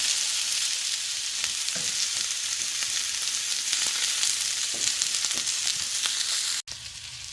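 Vegetables and a tuna steak sizzle steadily on a grill, a loud continuous frying hiss with faint scrapes and clicks, cutting off briefly near the end.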